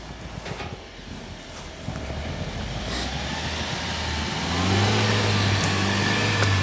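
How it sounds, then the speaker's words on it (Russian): A Land Rover Discovery pushing snow with its bumper off-road, its engine droning and then revving harder and louder into a steady, strained roar, heard close with some rustling noise around it. "это вот прям, прям расталкивание бампером снега"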